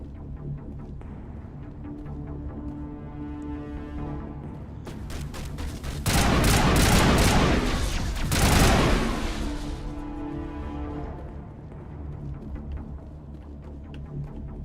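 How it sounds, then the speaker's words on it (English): Gunfire in a Mass Effect battle, a sudden dense volley of loud shots rising out of a steady game soundscape for a few seconds, then fading back into the background. "What are you shooting at?"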